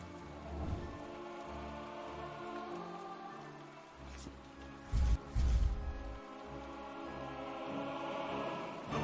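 Rain falling in a fantasy strategy battle game, a steady wash of patter lasting throughout with low rumbling swells, a couple of louder bursts midway, and no voices.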